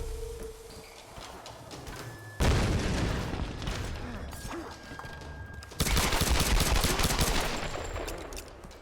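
Gunfire in the 2013 Tomb Raider video game, with loud bursts of rapid shots coming in two sharp volleys that cut in suddenly over rumbling game ambience.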